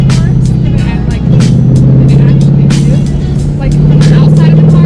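Steady, throaty 2018 Ford Mustang GT engine drone with a deep exhaust rumble, close and loud, holding a constant pitch with slight swells throughout.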